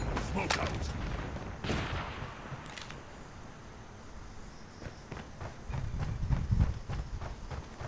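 Scattered gunshots ring out in a Call of Duty match, with sharp single reports and a few clustered bursts over low, rumbling game ambience.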